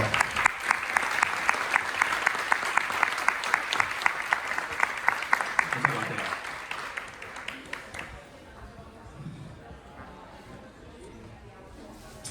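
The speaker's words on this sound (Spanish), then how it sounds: "Un fuerte aplauso." Audience applause welcomes a speaker at a tech conference talk on infrastructure as code, dense steady clapping for about eight seconds before fading into quieter room sound.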